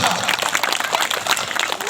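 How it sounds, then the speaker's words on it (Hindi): An audience at a devotional gathering claps loudly and continuously in a dense, even burst of applause throughout. "एक बार बेहतरीन तालियां हो जाए, जोर से बजाइए।"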